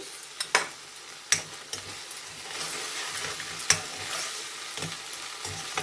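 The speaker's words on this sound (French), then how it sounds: "Je mélange bien, il n'y a pas de grumeaux, et je verse dans ma sauce." Cornflour slurry poured into sizzling chilli prawn sauce and stirred, giving a soft continuous sizzle broken by several sharp spoon-against-pan clinks and scrapes, close and fairly quiet, no voices.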